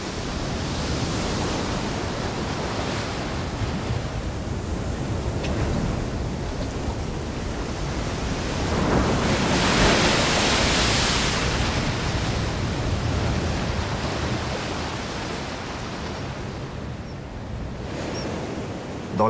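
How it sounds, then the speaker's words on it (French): Steady roar of surf crashing and washing over rocks, continuous and loud with a swelling surge midway, no voices. "il faut d'abord franchir les rochers balayés par les vagues"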